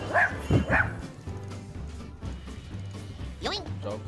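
A dog barks a few times in short yips near the start and again near the end, mixed with people talking during a game stream.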